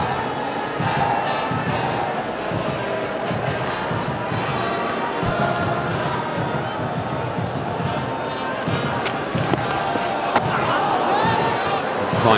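A cricket stadium crowd at a South Africa versus Australia one-day international rumbles and sings along with a band, a dense continuous roar of many voices filling the ground without pause.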